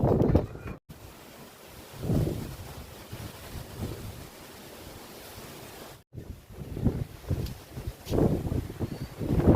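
Strong wind buffets the microphone in heavy rumbling gusts with rain, rising and falling throughout, with a brief dropout and a low engine-like hum underneath.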